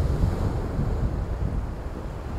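Sea waves break around the rocks by Cwyfan Church on the Welsh coast, a loud continuous rushing roar with low rumble and wind buffeting the microphone, no voices.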